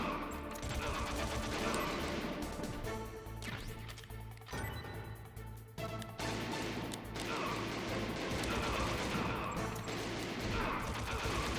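Gunfire and heavy impacts from the Metal Gear Solid video game pound almost continuously, dense and loud, layered with game sound and occasional brief voice.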